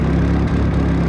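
A turbo Mazda Miata engine idles in a loud, close, steady low rumble, running rich with a constant throaty drone.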